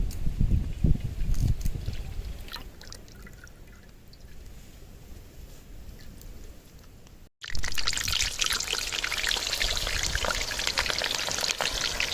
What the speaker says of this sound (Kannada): ಅಡುಗೆ ಎಣ್ಣೆ ಹಾಕ್ಕೊಳ್ತಾ ಇದ್ದೀವಿ